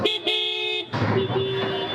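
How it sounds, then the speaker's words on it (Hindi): A car horn blares in two bursts, a short toot then a longer sustained honk, followed by busy road noise with another horn tone sounding. "सो मुँह के सामने हॉर्न मार रहा है कोई"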